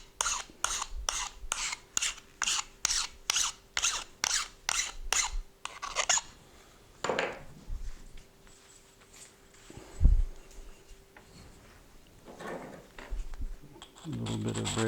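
A flint-knapping tool is sharpened by abrasion, giving a regular run of rasping scrapes at close range for about six seconds, followed by sparser rubbing and handling sounds with a voice speaking.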